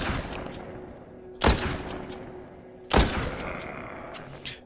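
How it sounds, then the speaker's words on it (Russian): Two powerful gunshots in the zombie shooter game The Walking Zombie 2, sharp loud blasts about a second and a half apart, each trailing into a decaying echo over a low game background, with faint clicks after. "Ну, хоть выстрелы мощные."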